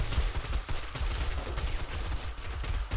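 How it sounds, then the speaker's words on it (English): In 7 Days to Die, rocket launcher blasts and gunfire sound as dense, continuous rapid fire with low booming thumps, loud and busy throughout, with no talking. "I'm having too much fun blowing them up with the rocket launcher."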